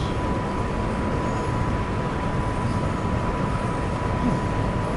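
A pair of locomotives rumble in a continuous, loud drone with a steady tonal hum in Train Sim World, near the line to Hagen, with no talking.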